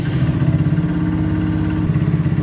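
A fuel-injected motorcycle engine idles close by with a steady, pulsing beat, loud and even, with no voices.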